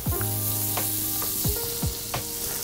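Butter and olive oil sizzling in a pan for a mushroom cream sauce: a loud, close, continuous hiss broken by a few sharp crackles and scraping swipes, with no talking.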